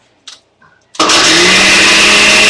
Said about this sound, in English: So I'm just going to give the blender just a whirl just to remix these again.